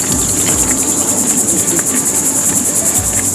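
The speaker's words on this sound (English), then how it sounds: "Yeah, the cicadas." Cicadas near a Florida beach drone in a loud, continuous pulsing buzz that rises and falls rhythmically, close and unbroken, with no talking.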